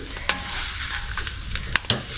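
Curry leaves and coconut sizzle and crackle in a hot pan, a steady close frying hiss broken by a few sharp pops and stirring scrapes, with no voices.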